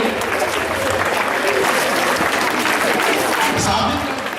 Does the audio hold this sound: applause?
yes